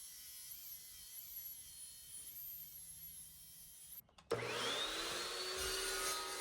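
Quarter-inch steel plate being cut down for a DIY flat top grill: a loud, steady high-pitched grinding whine starts abruptly partway through after a quieter motor hum, continuing harshly to the end.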